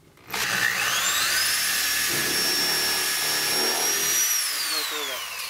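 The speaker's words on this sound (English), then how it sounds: "Should I drill a hole first?" A power drill bores a pilot hole in a cabin being readied for winter. Its motor whines loud and steady and close for about five seconds, with a faint voice underneath.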